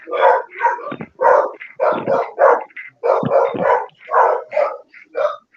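A dog barks over and over in a rapid, loud series of yaps and growly barks, close by and continuing without pause through several seconds.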